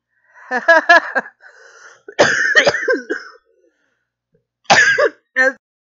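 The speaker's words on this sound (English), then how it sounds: "As we're all coughing up lungs in my Discord this morning" Several people in an online voice chat cough and clear their throats in a morning session, with harsh, rattling hacks coming in separate bursts and loud short fits set apart by brief silences.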